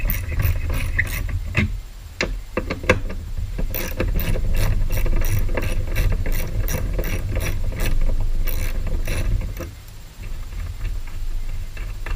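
A ratchet fitted with an extension and a 10 mm deep socket loosens a nut on the battery tie-down of a 2005 Acura RSX Type-S, producing a steady run of rapid, close metallic clicks with brief pauses and no talking.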